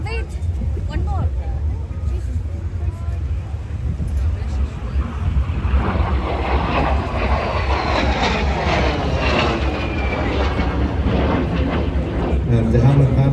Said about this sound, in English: And the Havilland Vampire, the FB-52, was the export version of what we would call the UK Mark 6.